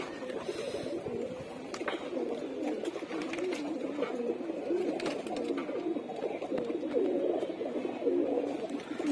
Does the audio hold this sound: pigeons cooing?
yes